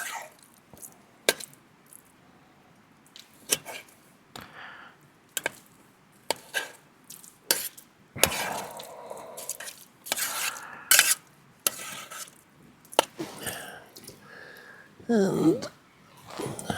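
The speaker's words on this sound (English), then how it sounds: "keep stirring" Spoon or utensil scraping and clinking against a metal pot while stirring food at a camp in Glen Affric, in irregular bursts of scrapes and knocks, with occasional voices and outdoor ambience between them.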